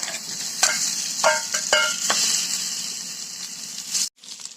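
Potato and green chilli fry in a pan with a bright, constant sizzle. Scattered clicks and stirring scrapes break through it, then it cuts off abruptly near the end and a quieter hiss returns.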